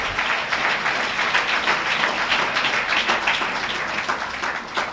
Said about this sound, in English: Let's give Brother Johnny Muhammad a well-deserved round of applause